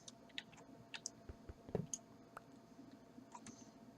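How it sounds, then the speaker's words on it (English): Faint, sparse mouse clicks, single and in quick pairs, during a Minecraft session, with a low background hum and no talk. "Shift right clicking will put it there"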